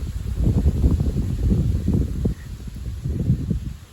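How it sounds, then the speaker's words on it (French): Low, blustery north wind at about 40 km/h rumbles against the microphone in uneven gusts, loud and close, with a brief dip partway through. "Le vent à 40 km/h."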